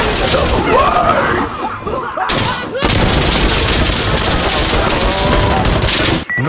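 Heavy gunfire in Insurgency: Sandstorm, loud automatic bursts and shots hammering almost without pause, with shouting voices and groans mixed in and a couple of brief gaps.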